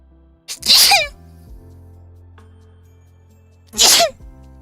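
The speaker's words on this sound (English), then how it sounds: "Oh, the sneezes." Two loud sneezes close to the microphone, a few seconds apart, with a low steady hum in between.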